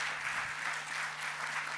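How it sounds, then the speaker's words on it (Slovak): Theatre audience applauding at a tribute performance in the Slovak National Theatre, a steady, dense wash of clapping that holds evenly throughout without voices. "Váš potlesk patrí kumštu"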